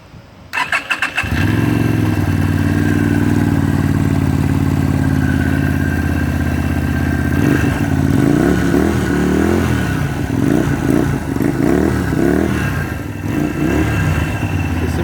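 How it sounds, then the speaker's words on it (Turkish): A Mondial Buccaneer 250i motorcycle with stock exhaust fires up and settles into a steady, loud idle with a deep, even exhaust rumble, followed by a few light throttle blips near the end. "Egzosu fabrika çıkışı bir egzoz."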